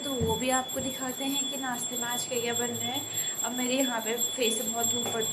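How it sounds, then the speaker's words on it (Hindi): A small bell rings continuously during a home puja, a thin high tone under someone talking the whole time. "आप घंटी की आवाज़ सुन सकते हैं"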